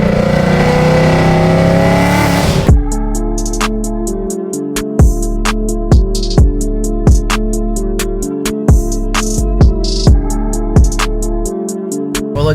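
A Whipple-supercharged 2024 Mustang GT accelerates hard, its engine note climbing in pitch before settling into a loud, steady drone punctuated by regular sharp pops.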